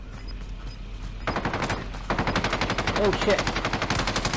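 Rapid automatic gunfire bursts in the Warzone video game, loud and sustained with a sharp jump in intensity midway, as a player swears briefly over the shooting.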